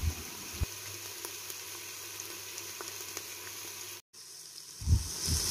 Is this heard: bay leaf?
yes